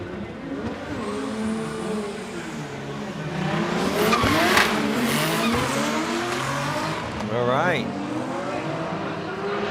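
Drift cars slide side by side at Okayama International Circuit, their engines revving and sweeping in pitch with tire squeal and a loud burst midway, under continuous commentary.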